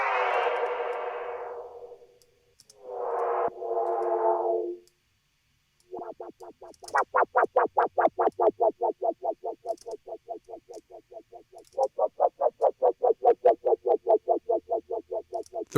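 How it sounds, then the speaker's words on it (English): Resampled audio in Ableton run through an auto filter: a couple of short tonal swells, then a long run of rapid, evenly spaced filtered pulses that stutter steadily, close and fairly loud, with no talking. "Throw an auto filter on it."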